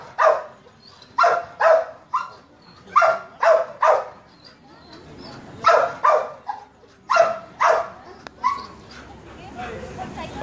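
Search dogs barking during a canine demonstration, delivering repeated bursts of loud, close barks in clusters of two or three with brief pauses, while people talk now and then in the background.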